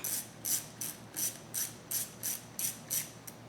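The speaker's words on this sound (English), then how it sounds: "now switching over to a 7mm socket, we are ready to loosen the hose clamp on the throttle body end" A ratchet fitted with a 7mm socket loosens a hose clamp on the throttle-body end of the intake on a 2014 Chevy SS. About nine crisp, evenly spaced ratcheting clicks sound close up.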